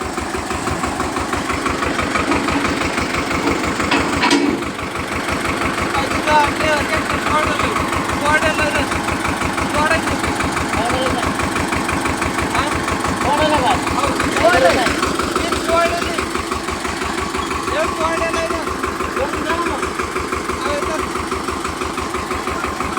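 A farm tractor's engine runs at a steady, loud, rhythmic chug while pulling out another tractor stuck in a field, with a brief thump near the start and voices talking over it.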